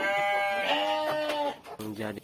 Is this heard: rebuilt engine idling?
no